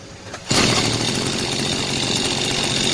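An overhauled Mitsubishi gas brush cutter engine roars to life after a short pause, then holds a loud, steady high-revving buzz close by with no talking.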